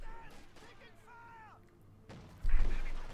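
Artillery fires in a Company of Heroes 2 battle: a single heavy boom breaks in near the end and rolls on, following a stretch of talk over quiet background game sound.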